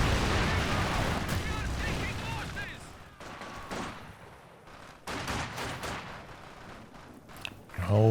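Incendiary artillery barrage in the video game Company of Heroes 2: loud crackling bursts and booming impacts that come in uneven waves, fading and then returning, with a voice talking over the battle.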